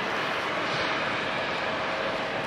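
A passenger aircraft on the runway at Fukuoka Airport gives a steady broad engine roar, moderately loud and even over the short span, with no talk.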